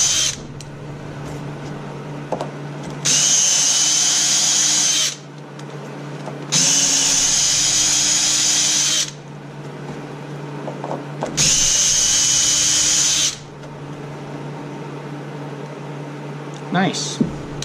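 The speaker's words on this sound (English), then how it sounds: "Drill the hole slightly larger so that the screw doesn't bind up." A power drill whirs loudly in three sustained bursts of about two seconds each, drilling holes for a Simplicity tractor snow blower modification, separated by quiet pauses, with a steady low hum underneath.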